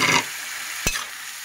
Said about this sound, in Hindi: और अपनी आलू मिला देंगे